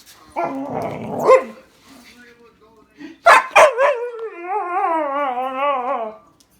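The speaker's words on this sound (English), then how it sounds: "What are you barking at him for?" A dog yelps sharply, then lets out a long, wavering howl-like whine, close by, with a few sharp barks in between.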